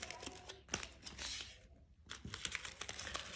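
Crisp plastic crinkling up close, in short bursts with brief pauses between handlings.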